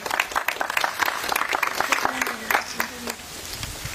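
Applause breaks out in a room at a football club press conference on a change of ownership, a few seconds of steady close clapping with voices over it.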